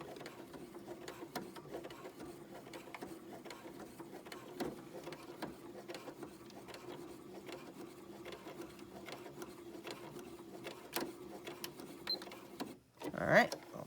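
Sewing machine straining to stitch through about four layers of fabric at the edge of a pleated mask, a fast, close mechanical rattle of needle strokes with a sharp clunk near the end.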